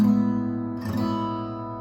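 A sustained guitar chord rings out and slowly decays, with a brief strum or shift partway through adding fresh bright notes.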